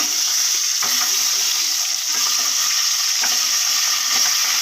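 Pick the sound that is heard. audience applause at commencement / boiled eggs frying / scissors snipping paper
boiled eggs frying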